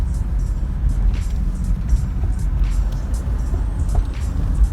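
Station wagon accelerating uphill with a faulty engine, a loud, close, steady low rumble of motor and road noise running throughout, with faint irregular pulses in the drone and no talking.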